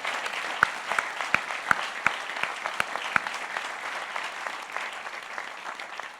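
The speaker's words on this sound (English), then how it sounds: "Please join me in giving State Representative Smitty Pignatelli a round of applause for his public service." Audience at a Massachusetts House district candidates debate applauding a state representative, dense steady clapping with a few louder claps standing out near the start before it tapers slightly.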